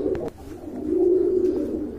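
Pigeons coo steadily at a pigeon farm, a low throaty rolling call swelling in the middle and carrying on close and clear, with a couple of brief sharper sounds near the start.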